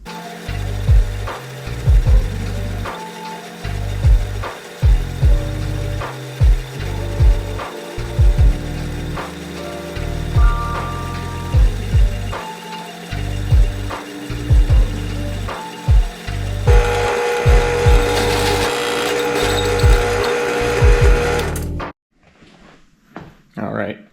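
Power tool notching a steel down bar for an F-body Camaro roll cage in a garage, loud repeated cutting bursts with short pauses, then a harsher steady grind before it stops; a voice speaks intermittently.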